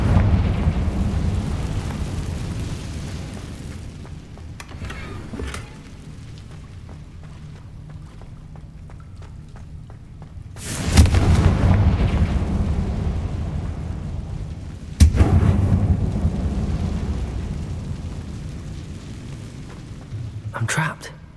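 In the Hogwarts Legacy video game, Confringo spells go off as heavy booming explosions with rumbling tails, several big blasts spaced over the stretch amid game ambience and a spoken voice.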